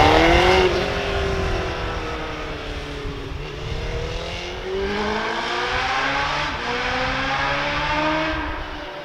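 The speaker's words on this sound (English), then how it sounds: "a little valve in that humble looking exhaust, titanium and designed by HRC by the way, opens to give you what sounds like a straight through pipe" A 2018 Honda CBR1000RR Fireblade with an HRC-designed titanium exhaust accelerates, its engine note climbing through several gear changes, loud and close with no talk.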